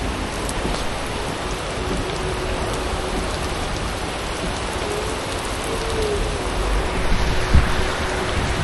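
Steady rain hisses down outdoors as a dense, even patter with no talking, and a faint low rumble swells near the end.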